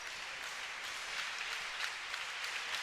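A crowd at a men's college basketball tournament game applauds at the final buzzer, a dense, continuous wash of clapping heard from within the arena, steady and moderately loud with no talk.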